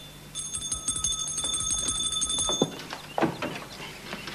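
A hand bell rung insistently to summon a servant in a period drama household, a bright sustained metallic ringing with steady strikes for several seconds, then fading as footsteps and movement follow.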